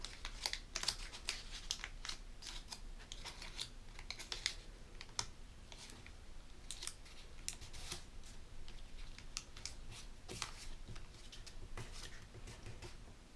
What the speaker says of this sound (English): Gently fold these sides in.